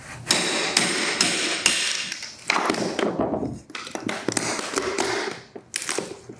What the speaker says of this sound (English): it's just going to be pounding it through this tongue and groove to get down in here